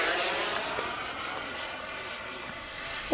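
A fast radio-controlled Me-262 jet model with a 12-blade electric ducted fan screams through its takeoff, a steady high-pitched whine that fades slightly as it climbs away.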